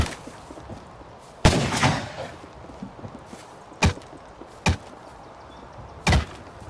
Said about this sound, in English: As the gunfire continues back and forth